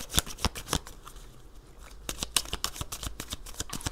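Tarot cards being shuffled and drawn by hand, a run of crisp, sharp card slaps and riffles, close and fairly quiet, arriving in an uneven rhythm with a short lull in the middle and no talking.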